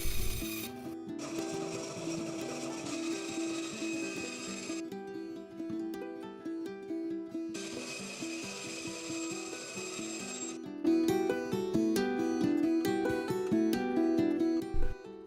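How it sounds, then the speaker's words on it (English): Trimming the wooden sides of a kazoo body, heard as steady rhythmic rasping and filing strokes, close and continuous, with a short pause in the middle and a quieter stretch between bursts. "you can then trim off the sides to make them the same length as a kazoo body"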